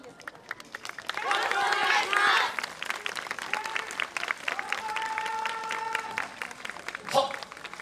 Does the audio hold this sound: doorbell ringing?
no